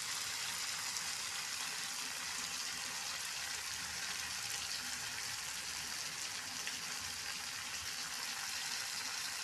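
Garlic frying in a pan with cumin powder gives a steady, even sizzle that holds without a break at moderate loudness, with no voices.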